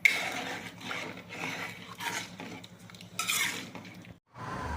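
Tomatoes sautéing in a pan for prawn curry, a spatula scraping and stirring in repeated strokes over a low sizzle, close and moderately loud, briefly pausing near the end; no talking.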